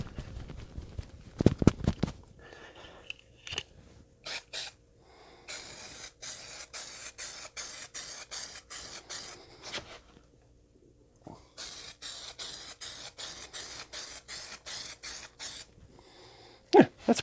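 Varnish is sprayed onto a painting from an aerosol can in a series of short hissing bursts, each a second or so long, close and fairly quiet, with small handling clicks between them.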